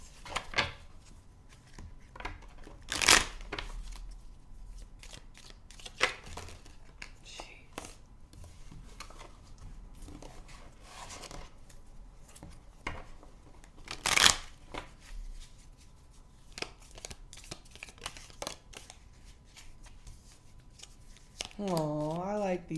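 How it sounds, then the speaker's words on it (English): Tarot cards are shuffled in repeated quick riffles and snaps, crisp and close, with occasional brief bursts of voice between them. "At least you know I'm shuffling the cards."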